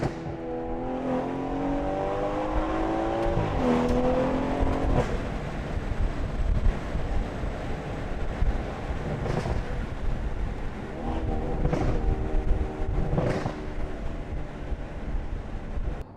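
A BMW F30 340i with Valvetronic Designs axleback exhaust, free-flow downpipe and midpipe, valves open, drones and revs loudly, its note climbing and dropping through several pulls over a long stretch with no talk.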